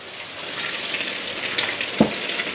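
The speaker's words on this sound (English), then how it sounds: "when you hear that sizzle when you drop them in, you know you've done it right" Flounder fillets sizzle as they drop into a hot frying pan, a bright steady hiss with a sharp pop as a piece lands, close and loud.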